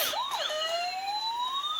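An electronic siren wails from a toy ambulance with lights, rising and falling in a shrill tone, close and clear with no talk over it.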